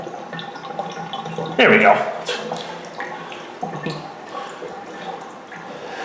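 Water drains and drips from a Kohler whirlpool tub in a household bathroom, with a louder gurgling rush partway through and softer trickling afterward, under a person talking nearby.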